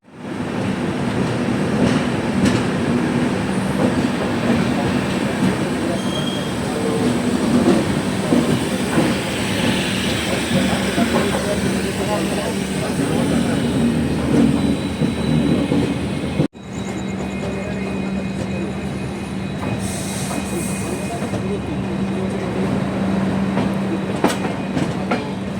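The Kriya Yoga Express train runs at speed after leaving Kharagpur, a loud, continuous rumble with rhythmic clickety-clack of the wheels heard from inside a coach, with a sudden shift in tone partway through.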